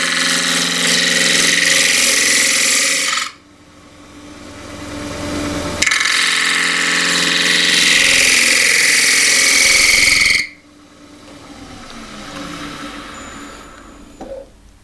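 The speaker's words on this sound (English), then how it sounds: "So in with the 3/8 bowl gouge again." A 3/8 bowl gouge cuts a square wooden plate spinning on a lathe, giving loud bursts of rough, hissing cutting noise that stop twice, leaving the motor's quieter hum between cuts.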